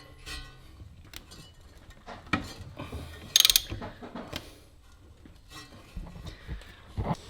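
Ratchet clicking in short bursts while trying to turn over the seized engine of a church bus abandoned for 44 years, with metallic clinks and one sharp burst midway.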